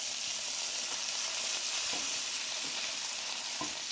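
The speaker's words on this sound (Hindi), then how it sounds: "अब हम इसके अंदर लहसुन अदरक के क्यूब ऐड करेंगे" Cubes of garlic and ginger sizzle steadily in hot oil in a pan, a constant hiss with soft occasional stirring knocks, moderate in level and free of speech.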